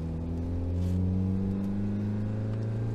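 Toyota MR2 mk1 engine droning steadily from inside the car while driving, a loud, low, even hum with strong harmonics and no clear revving.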